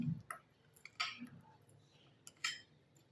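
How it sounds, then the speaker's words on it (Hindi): Chicken paste for kachori stirred in a bowl, a utensil clinking and scraping against the sides in a few sharp bursts with soft squishy mixing between them. "ये देखिए, बहुत अच्छी तरह से इसको मिक्स कर लेना है, स्मूथ हो जाए बिल्कुल"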